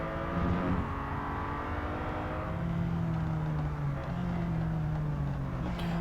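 Ferrari FF engine in Real Racing 3, a steady, loud droning hum with shifting pitch as the car holds speed and rises through the revs, continuous for the whole stretch with no talk.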